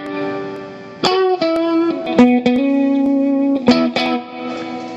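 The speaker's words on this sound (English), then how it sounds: "Here's my spring reverb." Electric guitar played through the spring reverb setting of an M9 effects pedal: a handful of plucked notes and chords ringing out with a splashy, drippy tail that carries each one into the next.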